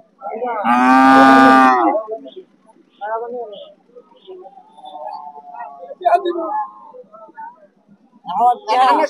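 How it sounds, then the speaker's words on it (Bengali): A Jersey cow at a cattle market lets out a loud, long moo close by, followed by shorter lowing sounds and a further moo near the end, with people talking in between. "খুব সুন্দর কোয়ালিটি ফুল এই জার্সি গরুটা।"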